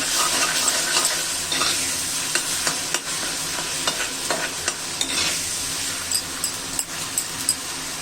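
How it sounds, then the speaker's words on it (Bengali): Cumin, ginger and coriander fry in hot oil with a loud, dense, continuous sizzle, while a spoon scrapes and stirs the pan in irregular strokes close by; no one speaks. "দেখুন এখানে জিরা আদা ধনে সব কিছুই আছে এটা ভালো করে ভেজে নিচ্ছি"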